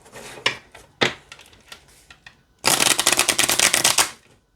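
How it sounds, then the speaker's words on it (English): Pocket oracle cards being shuffled: a few brief riffles and taps, then a long, loud burst of rapid riffling, close up, with no talking. "let's see how it shuffles"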